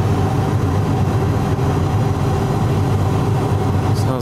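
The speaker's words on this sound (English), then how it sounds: "Sounds like it's doing a pretty hardcore regen over there." A semi truck's diesel engine running hard through a particulate filter regeneration at a fuel stop, a steady loud low rumble with a dense drone that holds constant from start to finish.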